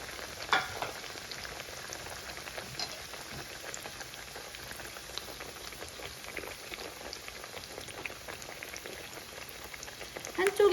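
A breaded chicken cutlet deep-fries in a pan of oil with a dense, steady crackling hiss like rain that runs unbroken throughout, with a faint handling clatter at the end.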